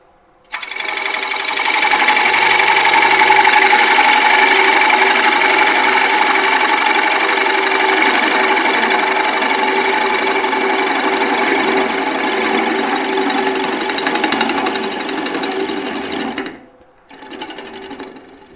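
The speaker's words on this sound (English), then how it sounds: "So I'm going to make a clean cut all the way across from the back," Woodturning lathe running as a bowl gouge cuts across a wood blank from edge to center: a loud, steady buzzing whine with a fast rattling texture that holds for about fifteen seconds, stops abruptly, then resumes briefly.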